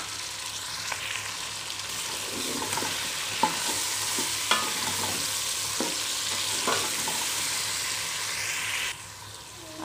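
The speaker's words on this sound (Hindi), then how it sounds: "अब हम इसमें लहसुन अदरक का पेस्ट डाल देंगे।" Chicken browning in a pan with garlic-ginger paste, frying with a steady broad sizzle while a spoon occasionally scrapes and stirs, producing a few soft clicks over the continuous hiss.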